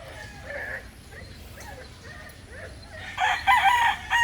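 An onigadori breeder rooster crows on a farm, its call rising loud and close near the end, with fainter clucks and crowing from other fowl earlier in the background.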